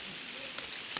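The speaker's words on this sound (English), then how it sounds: "It's raining." Rain falls outdoors in Ghana as a steady, even hiss, with a couple of sharper drop impacts standing out from the wash.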